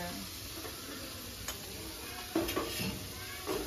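Onions frying in a pan with salt, giving a quiet, steady sizzle with a few soft clinks of stirring.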